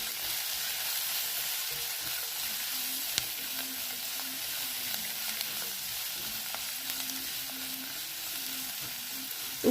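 Onions with salt and turmeric fry for Rayalaseema-style uggani, giving a steady, close hiss of sizzling oil with a few faint clicks of a spoon against the pan.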